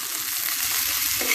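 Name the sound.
frying drumsticks and potatoes in a pan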